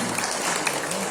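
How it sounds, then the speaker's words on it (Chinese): Steady applause from a crowd at a Buddhist temple children's class event as a volunteer team marches in, a dense unbroken wash of clapping with a few sharper claps near the start and the middle. "来，掌声不断，快点来啊！"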